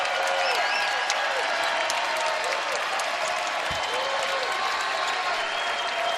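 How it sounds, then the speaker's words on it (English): Crowd ovation at the Thomas and Mack Center for a UNLV Running Rebels basketball game: loud, sustained applause and cheering filling the arena without a break, with whistles and a voice faintly above it. "A fantastic ovation from this Thomas and Mack Center crowd"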